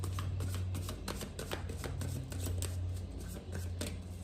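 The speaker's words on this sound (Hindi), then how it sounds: "एक और कार्ड निकालेंगे।" Tarot cards are shuffled and drawn in a card reading, a close, continuous run of rapid riffling and papery flicks with a low steady hum underneath.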